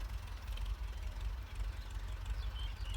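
A blue Ford 6610 tractor ploughing a soft, rain-wet rice field, its diesel engine giving a steady low rumble that stays constant and moderately distant, with no talk.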